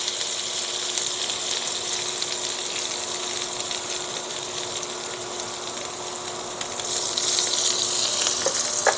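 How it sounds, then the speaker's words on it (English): A pat of butter with lemon juice and zest sizzles in a hot skillet for a seafood dish, making a steady, close crackling hiss throughout that grows slightly louder near the end. "putting in a pat of butter, going in with some lemon juice"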